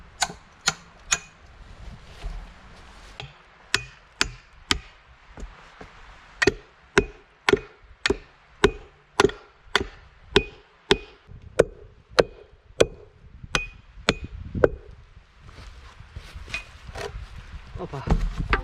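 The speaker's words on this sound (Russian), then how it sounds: "здесь гвоздь такой старинный, его может тоже достать" An old nail is pried and worked out of wood at a riverside dugout build, heard as a long series of sharp, evenly spaced knocks and cracks, close and loud, ending in rougher scraping and rustling with no talking.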